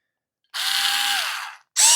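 An older small cordless screwdriver whirs for about a second, winding down as it stops, then starts up again briefly at the end.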